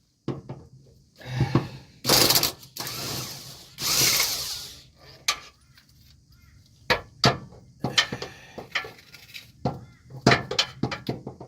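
A spanner works the transmission bolts on a 2009 Mitsubishi Pajero, giving loud broadband bursts of scraping and ratcheting, then a run of sharp metallic clicks and knocks, close up with no talking.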